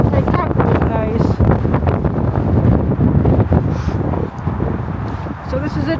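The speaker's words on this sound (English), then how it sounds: "I hope you can hear it, it's quite windy" Strong wind buffets the microphone beside a disused railway line at the old Sealand station, loud low rumbling gusts that roar and ease irregularly throughout, with the wind noise overwhelming everything else.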